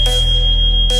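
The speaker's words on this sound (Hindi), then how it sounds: "लगता है कि ये फायर अलार्म होगा" A fire alarm sounds loud and close with a sustained shrill electronic tone. Bursts start and stop at either end. No one speaks over it.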